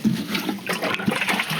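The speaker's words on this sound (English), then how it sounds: "So I'm just gonna give that a good water." Water pours steadily onto the soil around a newly planted Japanese maple outdoors, a close, continuous splashing gush with some gurgling, no talk.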